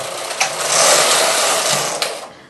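A knitting machine carriage sweeps one row from right to left across nine needles, giving a steady, loud mechanical whirr and rasp that runs about two seconds, with brief clacks at the start and end of the pass.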